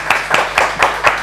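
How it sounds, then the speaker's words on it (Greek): A studio audience on a Greek television show claps in unison, five even rhythmic bursts of hand claps, close and loud, with no talk over them. "Ένα χειροκρότημα πάλι για τον κύριο Αποστόλη και για όλα τα παιδιά"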